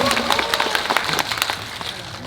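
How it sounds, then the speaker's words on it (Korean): Audience applause at a Korean film talk event for the movie New Normal, a sustained mix of many clapping hands close up, steady throughout with slight swells. "제가 오늘 태어나서 가장 많은 박수를 받는 것 같아서"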